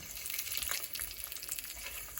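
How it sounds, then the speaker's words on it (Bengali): Steady oily sizzling of an egg frying in a hot pan on a stove, continuous and close, with occasional crackles and no voices. "এখন হচ্ছে চুলার তাপে ডিম ভাজা"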